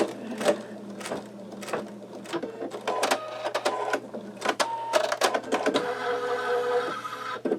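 A sugar skull design is being stitched by a machine embroidery unit, its rapid mechanical needle bursts starting and stopping irregularly over a steady low motor hum, with a denser continuous run of stitching near the end.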